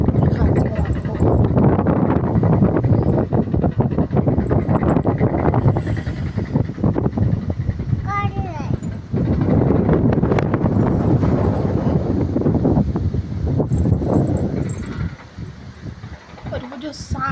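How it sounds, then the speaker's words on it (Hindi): A strong stormy wind in the hills near Kasauli under heavy cloud roars and buffets the microphone almost continuously, easing briefly near the end, while someone talks over it. "पूरी इतनी तेज़ हवा चली हुई है, तूफान पूरा और बादल"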